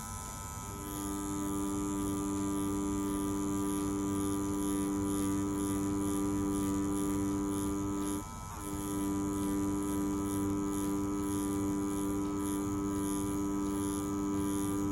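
Dragonhawk Atom M5 rotary tattoo machine running at about 7.8 volts, giving a steady, close electric motor hum with strong harmonic tones that holds unbroken except for a brief dip midway.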